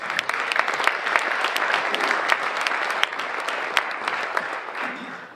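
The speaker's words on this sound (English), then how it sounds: "Let's give Joe a round of applause." Steady applause from a conference audience of real estate investors, dense clapping sustained at even strength throughout with no voices rising above it.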